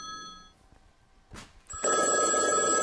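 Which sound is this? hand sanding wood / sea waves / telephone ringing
telephone ringing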